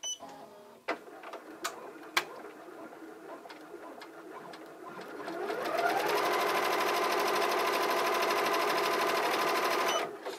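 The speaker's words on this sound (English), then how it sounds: "I'm just gonna hit start and let the machine start, and then I'm gonna stop it" A Ricoma EM-1010 embroidery machine, used for the first time, starts after a few clicks and knocks and ramps up into a steady, fast mechanical stitching rhythm that runs loud and close for several seconds before stopping.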